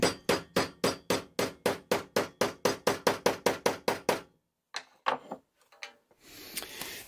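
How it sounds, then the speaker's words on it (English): A hammer strikes a block of wood to press-fit a rustic wooden candle holder, about twenty rapid, evenly spaced loud knocks, then a few slower separate taps and a brief shuffling noise. "I use a block of wood and a hammer for a little encouragement"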